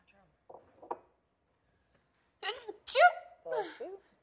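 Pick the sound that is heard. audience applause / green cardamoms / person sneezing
person sneezing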